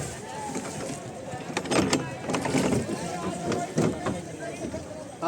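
A boat carries people on the Ganga at Prayagraj during the Kumbh gathering, with water slapping and a low rumble beneath continuous nearby talking.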